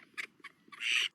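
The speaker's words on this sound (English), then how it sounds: "This is a purebred duck." A purebred farm duck gives a few short, quick quacks, close and moderately loud, ending in a longer drawn-out call, with no talking.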